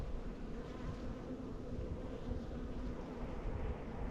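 Steady, dense buzzing of a honey bee colony at the hive during early-spring beekeeping, a continuous close drone of many wings with no talk over it.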